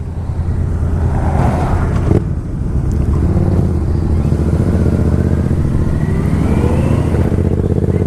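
A Yamaha Royal Star Venture motorcycle cruises at steady speed, its engine drone continuous and loud beneath heavy wind rush. There is no talking.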